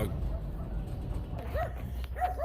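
A dog on a farm gives a few short yips and barks, fairly faint and spread out against steady background rumble.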